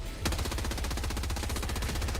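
Rapid automatic gunfire in the video game Warhammer 40k Rogue Trader, a dense, loud, continuous burst of shots starting after a brief moment and running steadily to the end with no talk.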